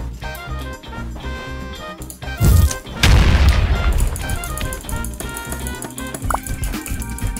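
A fireball explodes in a Roblox Bedwars match, a sudden loud boom followed by a second, longer burst of rumbling blast noise over steady game music.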